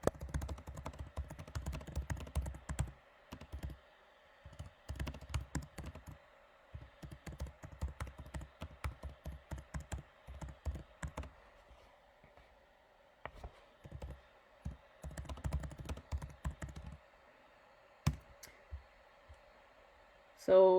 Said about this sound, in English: So I'm going to take a second here and write this in the chat.